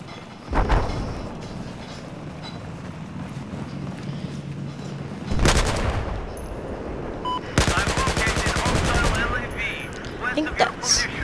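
Automatic gunfire in the video game Battlefield 4: a long, dense rattling burst and a shorter sharp volley stand out above a steady rumble of battle noise, loud and close.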